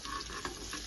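Small piece of ginger sautéing in a pan, giving a steady, close sizzle with faint stirring scrapes throughout a brief moment, no voices.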